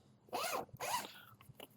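A pocket zipper on a travel duffel bag is pulled open in two quick, close rasping strokes, with quiet handling noise afterward.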